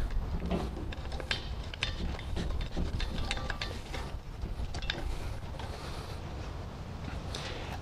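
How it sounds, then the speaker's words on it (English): Metallic clinks, scrapes and creaks of a hose fitting being threaded onto a propane tank for a barbecue, close and fairly quiet, in short irregular bursts. "So at this point, we're going to connect to the propane tank."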